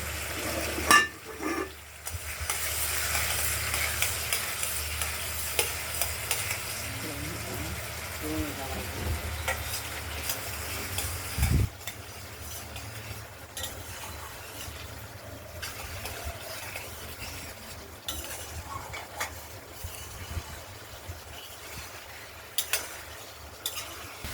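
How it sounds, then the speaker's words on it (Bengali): Bengali-style spice paste for katla fish curry sautéed and stirred in a pan, a steady low sizzle with scraping spoon movements throughout, a brief louder clatter midway, and a voice talking over it. "এটা কষানো হচ্ছে মশলাটা দিয়ে।"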